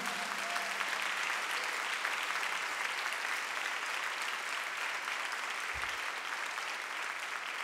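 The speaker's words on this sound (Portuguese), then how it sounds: "Você pode aplaudir a Jesus aí?" A church congregation applauding during a sermon on renewing hope in faith, a steady wash of many hands clapping at moderate distance, sustained and even throughout with no voices on top.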